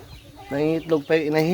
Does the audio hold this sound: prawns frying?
no